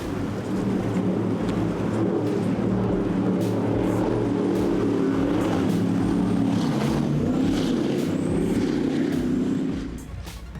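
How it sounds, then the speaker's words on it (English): A 2014 48-foot MTI powerboat with Mercury Racing 1350 engines roars in a loud, sustained, deep engine drone with steady wind and water rush, fading at the end. "This is a 2014 48-foot MTI powered by Mercury Racing 1350s."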